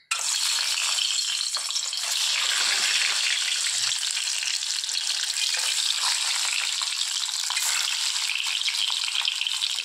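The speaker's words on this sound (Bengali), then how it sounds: "তো আমি প্রথমে কড়াই বসিয়ে দিয়েছি, তেল গরম হচ্ছে, তো এখন ডিমটা দিয়ে দেব।" Boiled eggs frying in hot oil in a wok give a steady, close, crackling sizzle that runs unbroken for about ten seconds, with no talk.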